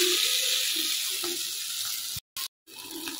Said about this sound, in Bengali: তো দেখুন মশলার মধ্যে দিয়ে দিচ্ছি অল্প একটু করে জল।